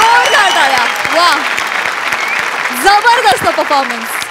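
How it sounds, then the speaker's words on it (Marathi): A live studio audience at a Marathi comedy show applauds, dense sustained clapping with cheers, while a host speaks over it loudly throughout. "जोरदार टाळ्या."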